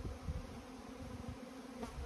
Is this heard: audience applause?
no